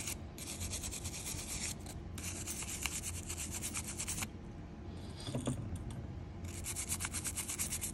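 Scrubbing corrosion off a Pokémon Gold game cartridge circuit board with 70% rubbing alcohol, a steady close rasping rub in long bursts with brief pauses.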